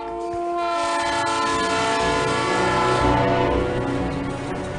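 A Ferroeste train runs between Cascavel and Guarapuava in Paraná, Brazil, its horn sounding loud and sustained throughout over the rumble of the rolling cars.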